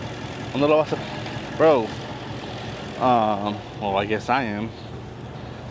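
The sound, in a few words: replacement engine in Dodge Scat Pack idling and misfiring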